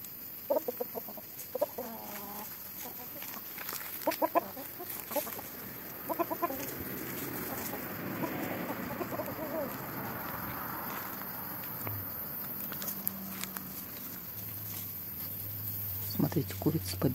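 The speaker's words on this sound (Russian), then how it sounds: "Здесь два красивых петуха вот на этом месте гуляют." Two large roosters with shaggy feathered feet cluck and murmur softly at close range among other poultry outdoors, in short scattered bursts over a steady background hum, with someone speaking at times.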